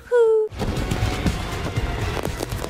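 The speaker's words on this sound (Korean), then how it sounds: "연막과 폭죽 공세를 펼치는 마이크" Firecrackers and smoke bombs going off in an action movie scene, a dense run of sharp cracks and bangs after a brief held vocal tone at the start, loud and close with a busy crackling spread throughout.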